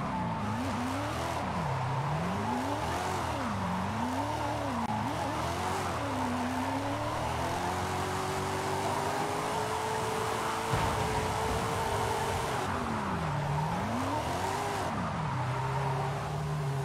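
Drift cars at a drift competition rev their engines up and down in repeated swooping waves, with tire squeal and skidding over a steady background roar.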